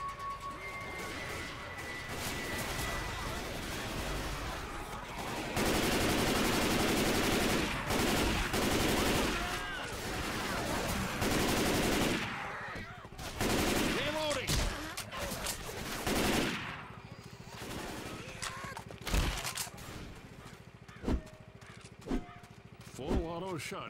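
A full-auto shotgun fires in Left 4 Dead 2 at the Junkyard stage, loud rapid bursts of blasts in clusters with gaps between them, mixed with crashes and clanks, and a voice talks at times between the shots.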